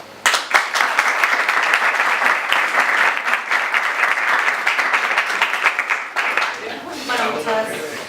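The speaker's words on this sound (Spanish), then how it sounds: "Fuerte aplauso." A conference audience gives strong, sustained applause, dense clapping that holds for about six seconds before tapering off as a voice begins speaking.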